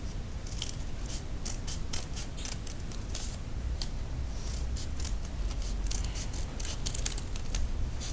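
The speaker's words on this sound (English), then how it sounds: "take your scissors and you want to just cut, not the whole thing, just cut a line through" Scissors snip a line through craft material, giving a run of small, crisp cutting clicks in an irregular rhythm. The sound is close but quiet, with no talk over it.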